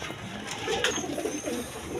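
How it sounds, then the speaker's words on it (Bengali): A pair of gorra pigeons of an uncommon colour coo softly for about two seconds amid faint background noise, with no talking. "এখানে এক পেয়ার গররা কবুতর আছে, আনকমন কালার"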